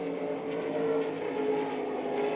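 A Valvoline Pontiac No. 75 NASCAR stock car runs through the tri-oval at the 1988 Goodyear NASCAR 500. Its engine makes a loud, steady, close roar that holds for the whole stretch, with no voices over it.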